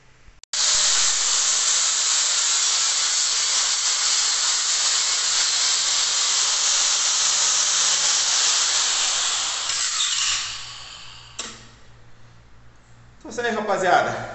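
Welding steel parts of a tricycle frame produces a loud, steady, close hiss for about ten seconds that then cuts off, followed by brief scraping and clatter.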